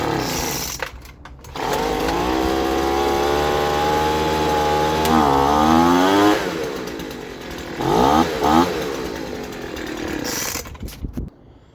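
A gas leaf blower engine fires up after a recoil pull-start repair, revving loudly and close in rising and falling bursts, then sputtering and cutting out.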